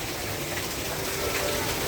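A waterfall inside an artificial cave at an exotic plant fair in Muang Thong Thani, Bangkok, a steady, dense rushing splash that fills the space continuously and stays close, with no talk over it.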